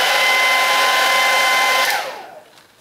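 A hair dryer blows at full power on teased, backcombed hair, a loud steady whoosh lasting about two seconds before it is switched off and winds down to near silence.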